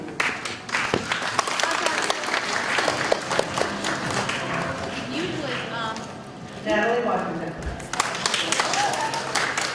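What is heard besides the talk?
school assembly applause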